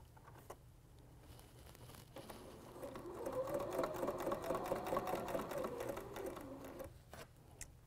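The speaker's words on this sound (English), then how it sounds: "And then I'm going to start sewing right here." A sewing machine stitches quarter-inch seams on quilt fabric for a table runner, its rapid whirring run starting after a few clicks, holding steady for about four seconds, then stopping, close and fairly quiet.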